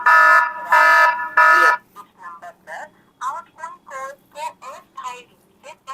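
SOS alarm from an Acumen GF 06 GPS tracker: three loud, harsh beeps in quick succession, followed by a synthetic voice repeating a short warning.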